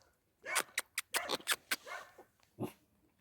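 A dog in an abandoned house gives a rapid string of short, sharp barks and yelps close by, then one last bark after a pause, with no speech.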